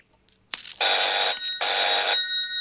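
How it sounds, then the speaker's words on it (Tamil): A telephone rings in two long electronic bursts with a short gap between them, loud and close, after a few faint soft noises and no talk. "ஃபோன் ரிங் ஆகுது."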